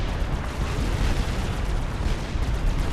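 Big guns fire and shells explode in the Supreme Commander strategy game, a continuous dense roar of booms and blasts with no let-up and no pauses.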